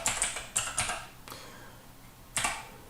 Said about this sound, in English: So you're going to type your email address